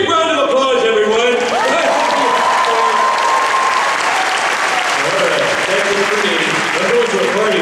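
Loud, close audience applause and cheering in a packed Comic-Con panel hall for The Simpsons, a continuous roar of clapping with voices and shouts riding on top throughout.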